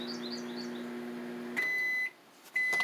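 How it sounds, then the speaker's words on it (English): Two electronic beeps from a microwave oven, each held about half a second, sounding over a steady appliance hum that cuts off before the first beep. "microwave."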